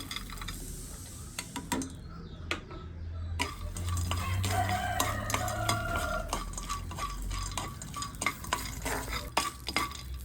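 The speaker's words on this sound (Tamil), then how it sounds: "கச்சானை வறுத்து எடுப்போம்." Peanuts dry-roasting in a pan for peanut sambal, stirred constantly with a spoon, producing close, irregular scraping and rattling clicks that carry on throughout over a faint background hiss.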